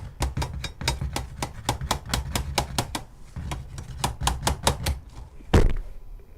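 Rapid, evenly spaced metallic taps ring out in quick succession, pausing briefly before resuming, with one heavier knock near the end.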